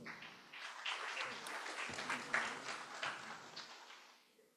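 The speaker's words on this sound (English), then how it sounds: "please give a round of applause for Mr." An audience at an international workshop award presentation gives a round of applause for an honoree, a faint, fairly distant patter of clapping that swells and then fades away.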